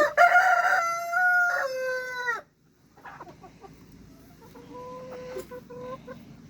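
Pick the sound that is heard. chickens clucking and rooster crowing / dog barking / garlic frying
chickens clucking and rooster crowing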